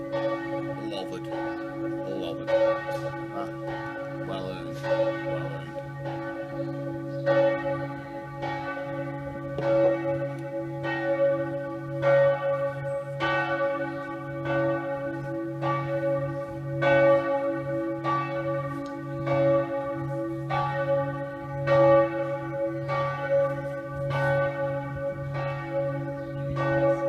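Church bells peal in a steady, repeating sequence of rich overlapping strikes with long sustained hum, heard from outdoors during a motorcycle tour stop in France or Spain, continuous and fairly loud throughout.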